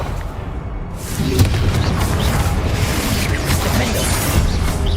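A Confringo fire spell blast in Hogwarts Legacy, a loud rumbling boom that swells after the first second and stays dense and roaring throughout.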